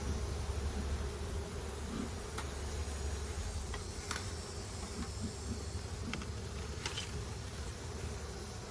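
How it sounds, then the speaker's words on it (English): Honey bees buzzing in an opened backyard hive being lightly smoked, a dense continuous hum with occasional faint ticks and clicks, steady and close, no talk. "So I'm just smoking them ever so lightly to kind of drive them up into the hive."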